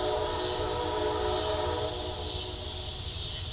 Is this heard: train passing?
yes